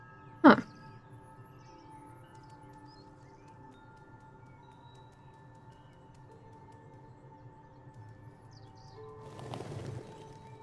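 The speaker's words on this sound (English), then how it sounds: "Birds." Ambient birds chirp in the video game Stray, with sparse faint calls in a quiet scene, a sharp brief sound near the start, and a soft rustling swell toward the end.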